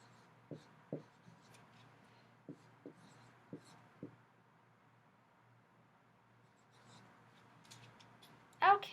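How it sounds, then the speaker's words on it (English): Marker strokes on a classroom board as fractions are written, a series of short, separate taps and squeaks spaced through a quiet room, ending with a sharper squeak. "I'm going to write a couple things on the board."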